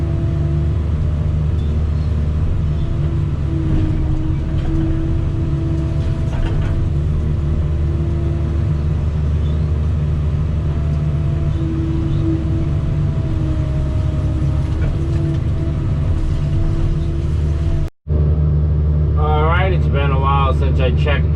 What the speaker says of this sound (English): Skid steer got a workout.